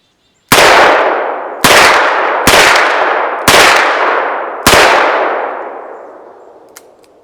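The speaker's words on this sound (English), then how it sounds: "Now I'll fire the rest in the double action combat mode" Five loud gunshots from a Ruger GP-100 revolver fired double action on a range, each sharp crack trailing into a ringing decay, spaced roughly a second apart with a slightly longer gap before the last.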